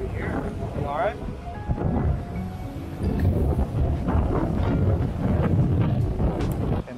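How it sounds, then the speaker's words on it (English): Strong wind buffets the microphone at Tomales Bay with a heavy, continuous roar that swells in the second half, and a voice speaks briefly near the start. "it's super windy right now"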